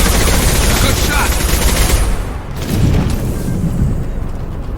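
Gunfire in the Mass Effect Legendary Edition video game, a loud dense barrage of shots and blasts that run nearly the whole time with only a brief dip, and combat voices mixed in.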